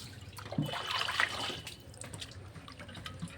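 Freshly cut fish being washed in water, a short burst of splashing and dripping close by that fades into quieter trickles.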